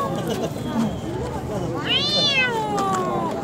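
A voice imitates a cat's meow, a single drawn-out, rising and falling mew under steady background noise, with other voices heard around it.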